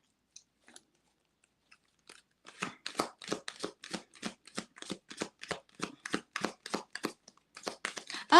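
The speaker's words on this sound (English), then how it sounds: "I'm just going to shuffle for one more." A deck of archetype trading cards being riffle-shuffled close up, a dense run of rapid crisp flutters and snaps lasting several seconds, starting with a few light taps and ending on a sharper burst.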